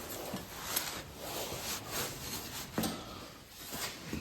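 A brush scrubbing the metal parts of a 1967 Triumph T100C motorcycle during cleaning makes steady, close, rasping strokes in an even back-and-forth rhythm at low volume, with no voices.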